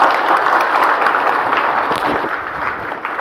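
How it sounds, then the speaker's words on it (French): A crowd at a reception at the Chinese embassy in Lomé applauds, a loud, sustained wash of clapping that stays even throughout. "Des applaudissements nourris étaient au rendez-vous à cette réception à l'ambassade de Chine à Lomé"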